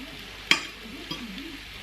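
Corned beef frying with cabbage in a pan over medium heat gives a steady soft sizzle, broken by one sharp utensil clink against the pan and a fainter tap later.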